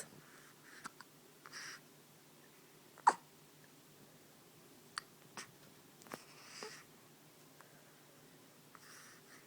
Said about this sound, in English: do you have hiccups?